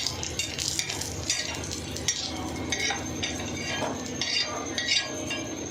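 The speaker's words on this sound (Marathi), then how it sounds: "मिक्सरमध्ये बारीक करून घेतलेला खोबऱ्याचा केस आहे तो देखील थोडासा कलर चेंज होऊस तर भाजून घ्यायचा आहे" Ground coconut, finely milled in a mixer, dry-roasts in a pan with a soft hiss while a utensil repeatedly stirs and scrapes against the metal in irregular clinking strokes, close and fairly quiet.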